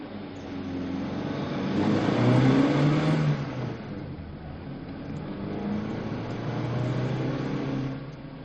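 A car pulls away and drives off, its mid-range engine rising as it accelerates, swelling over a few seconds, easing, then building again with a steady whirring hum and no voices.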